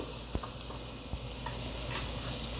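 Coconut barfi mixture with red food colour stirred in a pan, soft continuous scraping over a low hum, with a few light spoon knocks against the pan.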